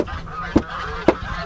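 Two short honks from geese, a half second apart, fairly close over a low outdoor background.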